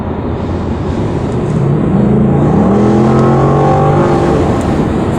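A 2016 Chevrolet SS sedan accelerates hard, its engine note climbing steadily in pitch over about five seconds, loud and continuous from inside the car.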